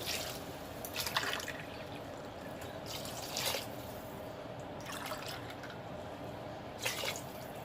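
Water is poured into a cooking pot for rajma biryani after the masala has cooked, making a soft, steady splashing trickle with a few louder gurgles, fairly faint and with no talk.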